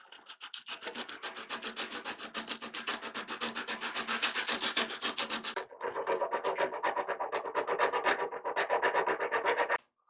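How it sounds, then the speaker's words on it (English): A wooden mandolin is hand sanded with 220 grit sandpaper in fast, even back-and-forth strokes, close and loud. The rasp changes to a lower, softer tone about halfway through and continues until it stops at the end. "I now have mandolin number 4, 220 grit papered down on the top and all of the neck and all of the sides"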